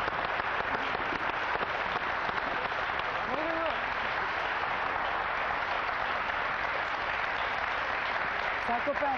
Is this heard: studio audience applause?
yes